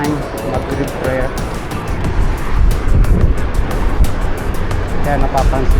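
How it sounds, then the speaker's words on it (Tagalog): Cars speed along a highway, rushing past in swelling waves of road roar mixed with wind buffeting the microphone, while someone talks over the traffic. "yung mga sasakyan ay halos para bang nagmamadali."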